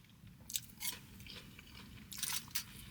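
Tempura-battered fried food is bitten and chewed up close, giving a few sharp crisp crunches in irregular bursts over quiet, faint chewing.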